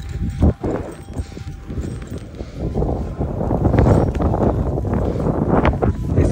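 Wind buffets the microphone during a ride on a new bicycle in Canada: a continuous low, gusty rumble with uneven surges and a few sharp knocks.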